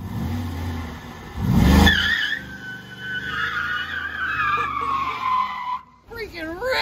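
A Chevrolet Monte Carlo does an e-brake burnout, engine revving loudly as the tires squeal and skid in a long wavering screech, with people talking and cheering nearby.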